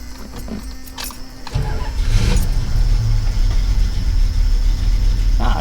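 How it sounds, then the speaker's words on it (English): A 1973 Plymouth Roadrunner engine catches after a few quiet clicks and settles into a loud, steady close idle with a deep rumble that continues to the end. "It's idling good."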